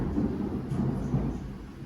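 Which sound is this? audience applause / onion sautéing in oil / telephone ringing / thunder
thunder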